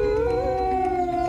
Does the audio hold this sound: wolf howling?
yes